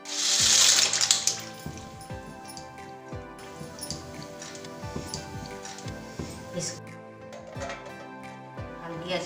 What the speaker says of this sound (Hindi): अब इसके लिए हमें आधा लीटर पानी चाहिए। पानी डालेंगे इसमें